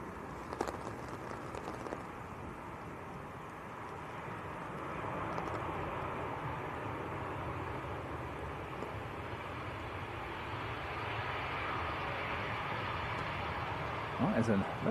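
An airliner lands at Leeds Bradford Airport in wet, windy weather, making a faint, steady, distant roar mixed with wind noise, with a voice faintly audible at times.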